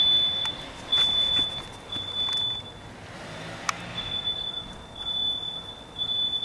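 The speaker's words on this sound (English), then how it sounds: "Smoke detector" A household smoke alarm, set off by cooking, sounds a sustained high-pitched electronic tone that cuts out briefly midway and then resumes. A few faint clicks and knocks occur underneath, with no one speaking.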